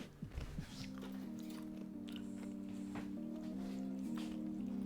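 Crispy fried chicken with bacon sauce is bitten into, giving a few faint, sharp crunches near the mouth over a steady tonal background hum.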